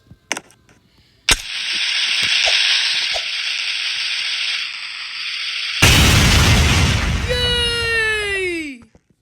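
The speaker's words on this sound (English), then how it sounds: "Lucas, why did you destroy the computers?" Computers being smashed in an office demolition video game, a sudden pop and then steady crackling destruction noise, followed by a louder burst with descending whistling tones that fade out. A voice talks in the clip.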